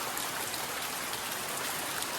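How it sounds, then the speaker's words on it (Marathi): Dense, unbroken roar of heavy monsoon rain pouring down in Konkan, loud and steady with no pauses. "हा पाऊस बघा थांबायचं नावच घेत नाही बघा जोर वाढवलाय परत पावसाने"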